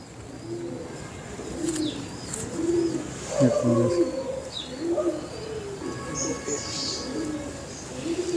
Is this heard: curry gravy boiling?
no